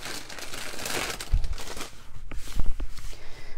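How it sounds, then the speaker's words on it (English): Cellophane paper crinkles loudly and continuously at close range, with a few sharper crunchy thumps mixed in. "Why is cellophane paper so loud?"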